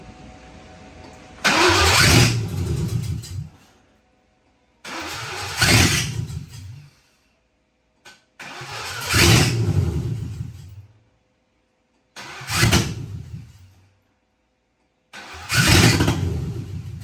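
A 2V drift car engine cranks and tries to start five times, in neutral with the clutch held to the floor. Each loud burst lasts a couple of seconds and is split from the next by short silences, with no talking.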